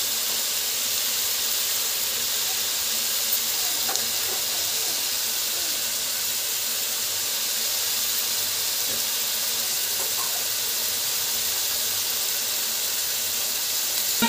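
Dry fish curry ingredients sautéing in a pan, a loud, steady hissing sizzle with a couple of faint stirring taps, no speech.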